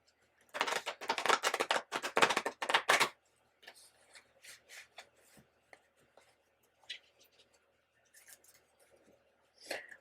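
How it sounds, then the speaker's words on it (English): Rapid riffling bursts of tarot cards being shuffled, a quick flurry then softer scattered card flicks and taps, close and fairly quiet. "My cards aren't cooperating. I have to give it another couple shuffles."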